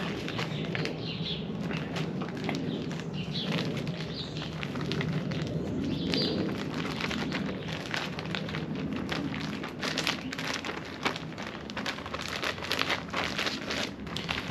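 Instant mashed potatoes being kneaded and squished by hand inside a sealed plastic bag with hot liquid, a steady crinkly rustling and squelching that runs continuously and up close with no speech.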